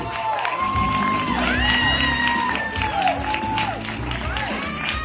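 At a film premiere, an audience claps and cheers with whoops, while a voice talks over the crowd and higher whistle-like tones glide above it.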